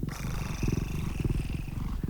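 A person growls and purrs in imitation of a cat, a low rumbling, pulsing vocal drone held steadily and loudly for about two seconds, close to the mic.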